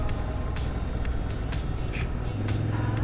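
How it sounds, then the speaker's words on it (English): A big truck rumbles along a narrow, low-speed road in the South Dakota hills, a steady close engine drone with tire noise filling the whole stretch and no voices over it. "Yes, he's in a big truck."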